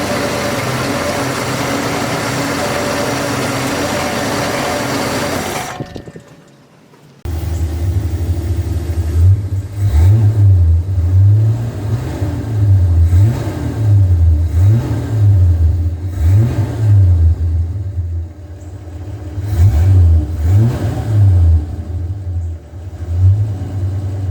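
A 1964 Pontiac LeMans six-cylinder engine runs close by, with a loud steady idle broken by repeated sharp revs and falls in rhythm after a short lull, and no talking.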